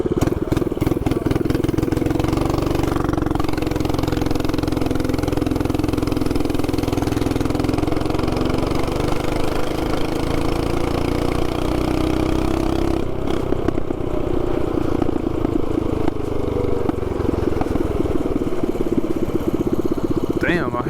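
A 224cc mini bike engine idles steadily and loudly up close on a group ride, with a continuous low rumble and clatter throughout while people talk nearby.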